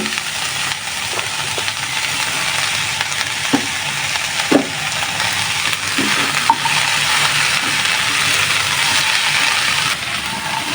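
Sausages, already boiled and still wet with water, hiss and sizzle steadily in a hot pan alongside wilted mustard greens, with a few scraping stirs and soft clicks over the continuous frying crackle.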